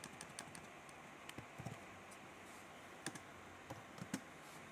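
Soft, sparse keystroke clicks on a computer keyboard, scattered taps with a few brief bursts and pauses, faint and close against a quiet room background.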